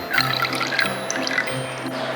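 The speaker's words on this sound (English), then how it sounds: "A good splash of vanilla. Now this is pure vanilla extract." Pure vanilla extract splashed into a bowl of four eggs, giving soft close liquid drips and a brief pour with a faint trickle, with a low tonal hum in the background.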